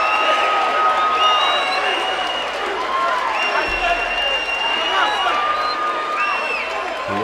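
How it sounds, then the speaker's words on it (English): At a boxing match, the crowd keeps cheering and whooping after a knockdown, with scattered shouts and whistles over a continuous roar and a commentator talking underneath. "Got the crowd going wild after that."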